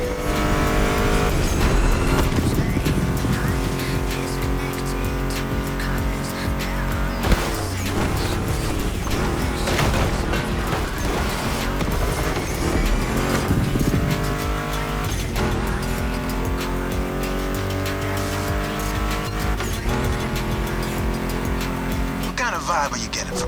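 A roaring Ford Mustang GT muscle car engine in The Crew Motorfest revs and downshifts continuously, tires squealing at moments, loud and close, with a voice talking over it.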